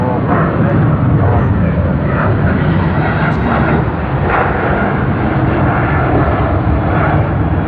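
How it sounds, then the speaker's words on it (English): Qantas flight QF59 airliner bound for Tokyo Haneda at Sydney Airport, its jet engines giving a loud, steady roar that holds broad and unbroken from start to finish, with no voices over it. "This is QF59 to Tokyo Haneda."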